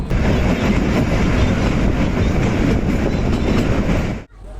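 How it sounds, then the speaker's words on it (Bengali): The Shimla–Kalka toy train, No. 52458, rolls into Solan station with a loud, steady rumble and rattle of wheels that continues before cutting off abruptly, with no talking. "ট্রেন এসে দাঁড়ালো সোলান স্টেশনে"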